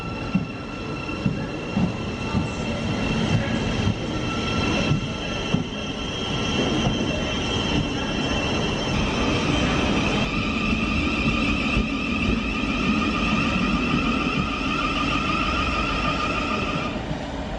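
Train crossing Blackfriars bridge over the River Thames in London, a steady rolling rumble with occasional wheel knocks and long high-pitched squeals from the wheels and rails.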